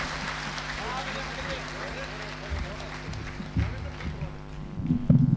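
Steady, dense applause from a hall audience welcoming a guest at a 26 January event, a continuous wash of clapping that swells slightly toward the end, with voices mixed in.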